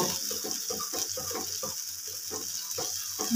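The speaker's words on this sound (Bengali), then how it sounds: "ভালো করে কষিয়ে নেব।" A spice mixture for a fish curry is stir-fried in a pan, giving a steady close sizzle with rhythmic scraping strokes of the spoon.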